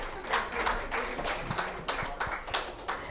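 Audience applause at a sustainability education conference plenary session, sparse and uneven claps from a modest crowd with a few louder individual claps standing out, fairly close.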